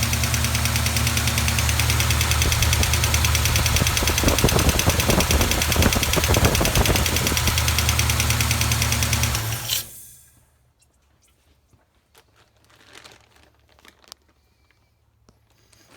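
A Duster 360 V8 with a noisy lifter idles loudly and close for about ten seconds with a rapid, rhythmic clacking tick, then shuts off, leaving near silence with a few faint knocks.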